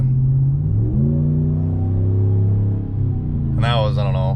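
Low rumbling engine note from a 2019+ Ram 1500 with the 5.7L Hemi V8 and Borla S-Type cat-back exhaust, rising in pitch as it revs at partial throttle, close and steady, with a voice speaking near the end.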